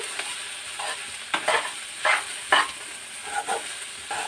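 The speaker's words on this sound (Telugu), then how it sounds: "కొంచెం కూడా అడుగు పట్టకుండా చూడండి, అస్సలు అడుగు అంటలేదు కదా, కలుపుతూ ఉండటం వల్ల" Grated coconut dry-roasting in a pan while being stirred, giving a series of soft scraping, rustling strokes about every half second to second, close and moderately loud with no talking.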